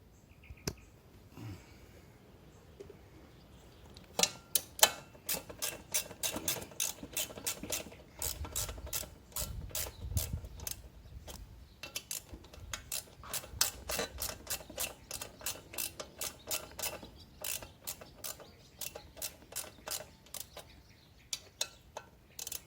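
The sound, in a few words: tightening bolts while raising a front fender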